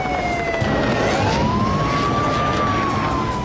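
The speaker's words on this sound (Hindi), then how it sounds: "धमाकों और सायरन की आवाजों से शहर में जगह जगह अफरा तफरी मच गई।" Air raid siren wailing, rising and falling steadily, loud and continuous, over a dense background of noise in a city during the Russia–Ukraine war.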